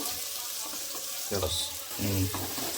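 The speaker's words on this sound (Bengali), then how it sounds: "এখানে এখন একটু তেল দিয়ে ভেজে নিচ্ছি বিনস আর গাজরটা" Chopped beans and carrots fry in a little oil in a home kitchen pan, a bright sizzle with two louder bursts of stirring and scraping partway through.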